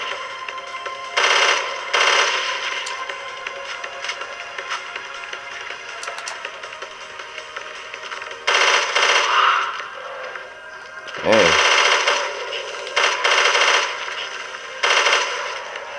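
Bursts of automatic gunfire in Resident Evil: Revelations 2 Raid Mode as enemies are shot down, loud clustered volleys recurring across the span with quieter game ambience between them.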